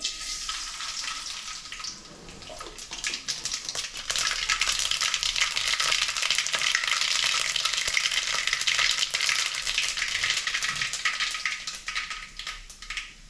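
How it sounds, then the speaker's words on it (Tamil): Steady crackling sizzle of mustard seeds popping in hot oil, loud and close, swelling after a couple of seconds and holding without speech. "எண்ணெய் சூடாயிட்டு இப்போ வந்து கடுகு சேர்த்துக்கிறேன்"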